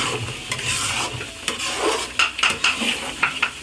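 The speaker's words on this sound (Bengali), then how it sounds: "এটা নাড়াটা আসলে অনেক কষ্ট এই জন্য হচ্ছে বড় একটা মানে খুন্তি আমরা ইউজ করতেছি" A large metal spatula stirs thick mango pickle in a pot at home, with repeated scraping and sticky clacks against the pot and a faint sizzle beneath, loud and close, with no speech.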